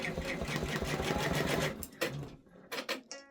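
An embroidery machine runs a placement stitch on an OESD freestanding quilt block, a fast steady needle rhythm for nearly two seconds before it stops and a few short mechanical bursts follow.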